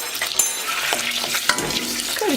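Tomato paste and pepper paste sizzle in melted fat as a spoon stirs them around a pan, a steady close frying hiss broken by light scraping strokes, with no voices.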